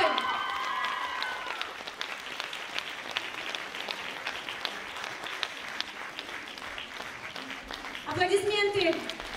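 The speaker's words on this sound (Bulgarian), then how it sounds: "Аплодисменты!" An audience at a gala concert of arts-studio laureates claps steadily throughout, with a voice speaking over the applause at the start and again near the end.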